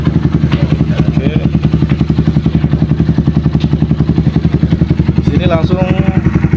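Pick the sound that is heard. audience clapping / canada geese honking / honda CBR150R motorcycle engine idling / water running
honda CBR150R motorcycle engine idling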